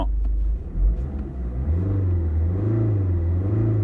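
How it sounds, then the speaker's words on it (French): A car engine revs as the accelerator is pumped, a loud, close, low rumble that swells and settles in a few bursts before holding at a raised idle, with no voices. "En donnant des coups d'accélérateur"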